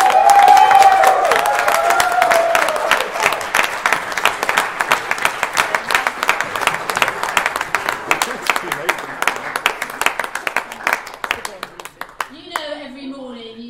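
A sustained round of applause fills a school sixth form prize giving hall, dense steady clapping from the audience that gradually thins and fades, followed by a brief voice at the end.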